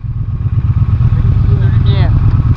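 Rental motorcycle engine idling with a low, steady, close rumble and throb, while a voice talks over it.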